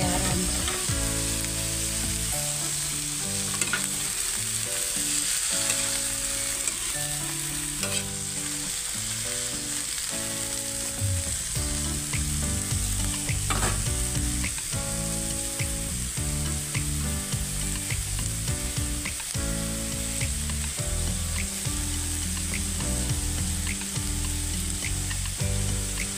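String beans for adobong sitaw fry in a pan with a continuous, loud sizzle, and a utensil scrapes and stirs them at intervals throughout.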